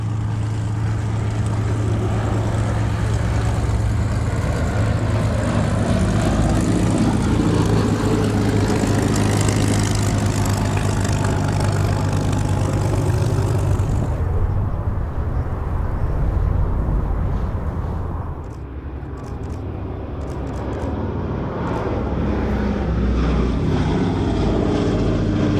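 A Boeing B-17G bomber, Sally B, drones past with loud, steady multi-engine propeller roar that dips briefly partway through and then holds again.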